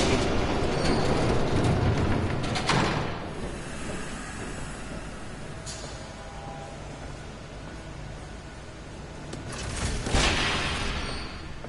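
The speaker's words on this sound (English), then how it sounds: "There's a train coming." A train rushes past in Batman: The Telltale Series, a loud broadband roar and hiss that swells, eases off, then surges again near the end, with no voices.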